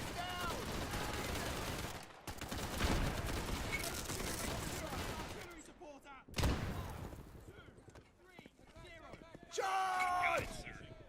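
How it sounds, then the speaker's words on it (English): Gunfire crackles in the World War II shooter Easy Red 2, with dense bursts of rifle and machine-gun shots, some near and some distant, broken by short gaps as voices call out among the shots. "I don't know whose guns those are, but if they're ours, they need to stop"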